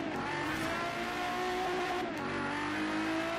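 A Quartz Regalia driving in Forza Horizon 3 holds a continuous engine drone at steady high revs with a slight pitch shift midway, loud and unbroken, with no talking.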